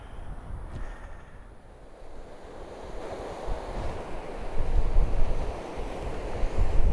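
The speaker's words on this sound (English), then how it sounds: "High tide and some strong currents out there." Sea waves and surf at high tide with strong currents on a beach at West Wittering, a continuous rushing wash that swells louder toward the end, mixed with wind buffeting the microphone, no voices.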